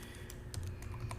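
A password is typed on a computer keyboard during a network device login, with a quick run of light, close key clicks over a low steady hum, faint and without speech.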